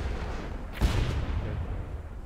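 A ship's cannon fires in the pirate naval game Blazing Sails, a single booming shot with a brief rumbling tail over steady sea and ship ambience.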